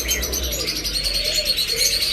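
A pair of Cremino pigeons cooing, soft repeated coos with some chirps, close and clear without talk.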